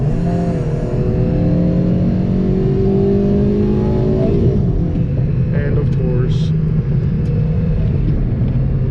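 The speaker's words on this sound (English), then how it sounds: "that was a little VTEC for you guys" A stock Honda Civic Si engine revs hard, pitch climbing as it winds up through the rev range into VTEC, then shifts and keeps pulling with a loud rumble; someone speaks briefly.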